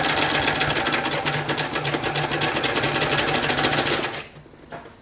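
A sewing machine stitching fabric runs loud and close in a fast, steady mechanical rhythm for about four seconds, then stops abruptly, leaving a faint click or two.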